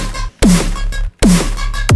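A "Yo Man" chorus preset, high-passed at 562 and run 99% wet, on a spread, metallic electronic drop sound: two loud, dense bursts with a sweeping tone and low thump, split by brief gaps.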